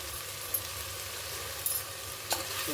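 Sliced bitter gourd sprinkled with salt hisses steadily in a hot pan, a close, continuous sizzle with a few faint clicks and pops scattered through it.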